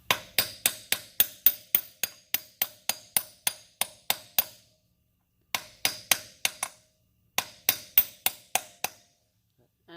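A hammer drives a wheel bearing into a dirt bike hub in steady, rapid bursts of sharp metallic smacks, about twenty in a row, then shorter runs after brief pauses, loud and close with ringing tails.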